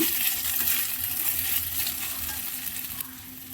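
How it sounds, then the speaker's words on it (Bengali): Ginger, cumin and green chilli paste sautés in oil in a pan for a barramundi and cauliflower curry, giving a close, steady hiss and sizzle with light stirring scrapes, and no talk. "আদা জিরে কাঁচা লঙ্কা বাটা দিলাম ওটা একটু কষে নিচ্ছি"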